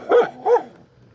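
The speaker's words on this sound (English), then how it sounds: "And now all the dogs are barking." Two loud barks from a nearby dog in quick succession, part of a group of dogs barking on a street in Mexico, followed by a quieter tail of ambient noise.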